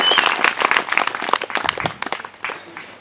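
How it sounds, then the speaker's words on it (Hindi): Congregation at a Christian healing and miracle service clapping together, a dense burst of many hands with voices mixed in, fairly close and lively throughout. "सब ताली बजाएंगे यीशु मसीह के लिए"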